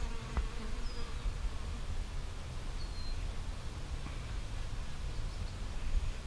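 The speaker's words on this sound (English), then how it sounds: "see how she has a ring of bees around her?" Honey bees in a mini urban beehive produce a soft, continuous buzzing hum up close, with a few individual bees flying past now and then and no talking.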